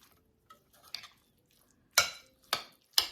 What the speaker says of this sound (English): you just want to stir this in really well